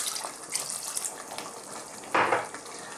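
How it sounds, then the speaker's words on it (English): A splash of cold water poured into a pan of frying tomato sauce, a brief close gush rising over the soft background sizzle. "Now I'm going to add just a touch of water,"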